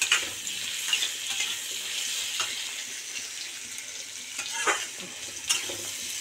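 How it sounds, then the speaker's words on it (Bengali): Papaya curry frying in a pan with whole garam masala, a continuous sizzle broken by several sharp scraping stirs, close and fairly loud, with no one speaking. "এখন ভাজা ভাজা হচ্ছে, তার সঙ্গেই গোটা গরম মশলাটা দিয়ে দিলাম"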